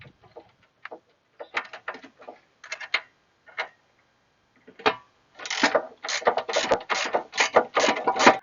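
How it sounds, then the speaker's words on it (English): A wrench with a T30 bit works a bolt loose on a Pontiac Firebird pop-up headlight motor. Sparse close metallic clicks and ticks come first, then a denser run of rapid ratcheting clicks near the end. "connect the T30 bit and the 10 millimeter wrench to it. We'll get that off"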